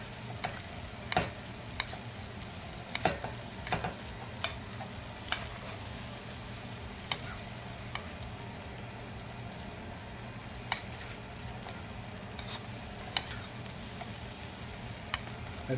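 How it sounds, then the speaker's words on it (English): Halibut fillet pushed aside in a hot pan and basted with sizzling butter, rosemary and thyme: a steady, fairly soft frying crackle with repeated spoon clicks and scrapes throughout, no voices. "And now, give it a butter bath."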